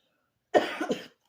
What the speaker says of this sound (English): Oh, it ended up being a cough, then a sneeze.